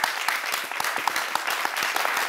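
A crowd at a live wine show claps in a quick burst of dense, close applause with distinct individual hand claps.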